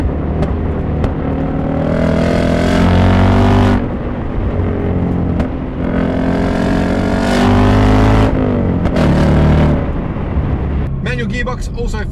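The 2024 Ford Mustang RTR Spec 2 V8 revs loudly from the cabin, engine note climbing and dropping in repeated surges with brief gear-change pauses, and someone talks over it.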